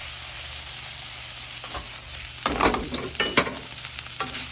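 Bamboo shoot filling with chopped spring onion being stirred and mixed, with a steady background hiss and scattered scraping clatters of the utensil in the bowl growing busier in the second half.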